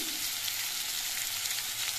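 Potatoes and sweet pumpkin fry in a pan in a steady, close hiss of sizzling oil that stays even throughout, with no talk.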